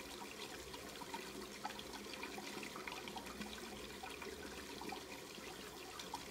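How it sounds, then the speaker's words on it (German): Hot water running continuously from a tap in the video game Black Mirror 2, a steady, faint, even rush and trickle with no pauses. "Das Wasser ist kochend heiß."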